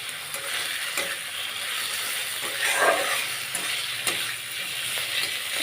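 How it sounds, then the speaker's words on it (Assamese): Food fries in a pan with turmeric and salt, a continuous hissing sizzle with occasional stirring scrapes, close and fairly loud. "নিমখ আৰু হালধি দি ভালকৈ ভাজি লওঁ"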